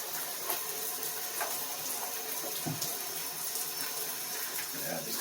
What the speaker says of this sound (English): just going to rinse this piece off